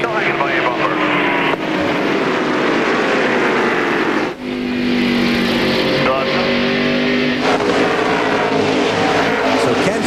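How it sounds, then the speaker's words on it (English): NASCAR Winston Cup stock cars race in the New Hampshire 300 at New Hampshire International Speedway, a loud continuous engine roar with pitch sweeps as cars pass, while a commentator talks over it. "So Kenseth is through. Here comes Nadu"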